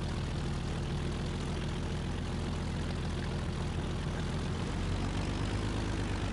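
Steady propeller airplane engine drone in the video game Just Cause 3, loud and continuous with a deep low hum that shifts slightly in pitch near the end, no voices.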